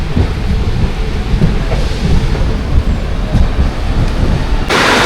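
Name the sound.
heavy rain with thunder at Ratnagiri station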